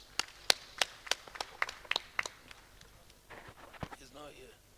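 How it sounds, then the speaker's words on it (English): Sparse, isolated claps from a small audience at a bar association breakout session, a handful of sharp distinct hand claps tapering off, followed by quiet murmuring. "Please welcome him with a round of applause"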